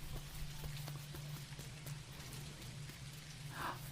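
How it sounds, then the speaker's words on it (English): Rain falling on a chilly, wet winter day: a soft, steady patter with scattered drops, faint and continuous, with no voices. "It's raining, butterfly."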